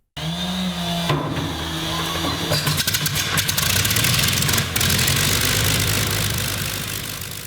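A historic P-40 Warhawk fighter's engine cranks and catches, then settles into a loud, steady rumbling run with rapid firing pulses, heard close and alone.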